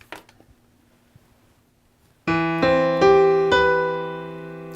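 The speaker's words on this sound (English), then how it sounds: "So here was our root position chord." A root position chord rings out on piano after a near-silent lead-in, struck firmly and then restruck three more times in steady succession, each attack sustaining with rich, even harmonics.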